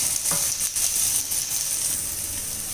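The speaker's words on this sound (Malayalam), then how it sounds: "ഏത്തക്ക ഇട്ടിട്ട് വഴറ്റിയെടുക്കാം. നല്ലോണം വഴണ്ട് വരട്ടെ." Raw plantain slices sautéing in an oiled pan for kaipola, giving a steady close sizzle and crackle with a few soft stirring taps throughout, no voices.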